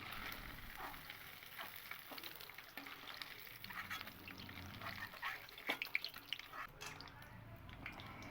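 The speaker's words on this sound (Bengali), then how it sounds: "এখানে সমস্ত পনিরগুলো কিন্তু খুব ভালো করে ভাজা হয়ে গেছে" Paneer cubes fry in a pan, giving a soft, continuous sizzle with light crackles and occasional stirring scrapes, fairly quiet throughout.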